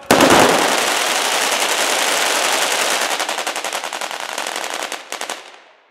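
A long rapid burst of automatic gunfire fired as a funeral salute, loud and sustained, then a short final volley before it fades out.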